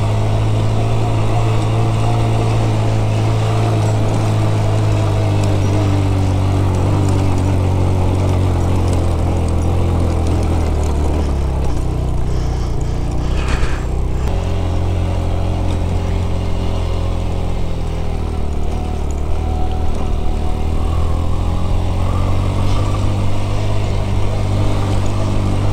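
Motorcycle, a road bike rather than a trail bike, ridden on a rough mountain trail in Astore Valley, its engine a loud continuous drone with shifting revs and a brief surge midway, alone throughout.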